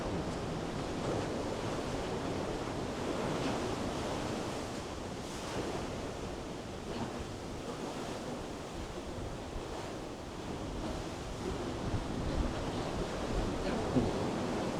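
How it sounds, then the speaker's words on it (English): Ocean waves wash steadily against a rocky Pacific coastline beside an eroded natural stone arch, a continuous broad surf roar with light wind buffeting the microphone throughout. "Now you're looking at the Pacific Ocean through this natural arch."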